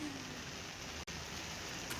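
Heavy monsoon rain pours steadily over flooded village lanes in Kalavad, Jamnagar, Gujarat, a dense continuous hiss with one brief dropout midway.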